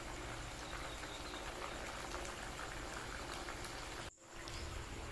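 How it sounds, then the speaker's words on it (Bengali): Home-raised duck eggs boil in a pot, giving a faint, steady bubbling rush that cuts out briefly near the end before resuming. "ডিম রান্নার জন্য ডিম সিদ্ধ বসিয়ে দিয়েছে"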